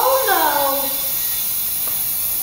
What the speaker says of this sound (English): what you're hearing is air rushing into the bell jar